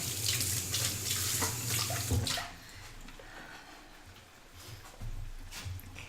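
Tap water runs steadily into a kitchen sink while something is rinsed under the stream, the flow briefly stopping and restarting; no talking.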